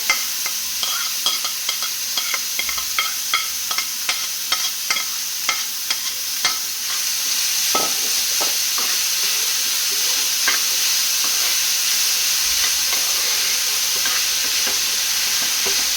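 Ingredients sizzle steadily in hot coconut oil, with a constant frying hiss and frequent close scraping stirs, busier during the first seven seconds. No one speaks.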